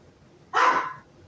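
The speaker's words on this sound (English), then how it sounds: "Oh, Toto barked" A single sharp bark from a pet dog indoors, brief and fairly close, rising out of a quiet room and fading in under half a second.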